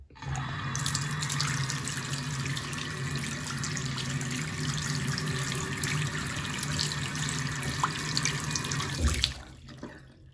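A newly installed LED faucet runs a steady, close stream of water into a sink for about nine seconds, then shuts off abruptly, leaving near silence.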